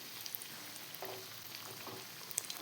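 Chicken bread rolls frying in a pan over a low flame as they are turned over, giving a soft steady sizzle with a few faint clicks and light scrapes of flipping, no talking.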